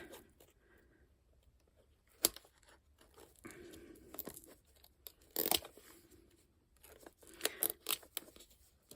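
Scissors snip through paper along a fold in a budget memory-lane journal, a few crisp cuts and crinkles spaced across the stretch, close and fairly quiet with no talking.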